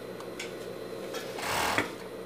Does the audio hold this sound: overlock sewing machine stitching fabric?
yes